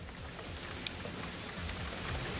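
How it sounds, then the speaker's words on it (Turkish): Heavy rain pours down in a dense, steady hiss during a downpour in Turkey, constant and fairly loud across the whole stretch with no voices. "Şiddetli yağışa hazırlıksız yakalananlar oldu."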